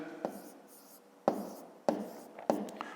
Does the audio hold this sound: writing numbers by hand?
yes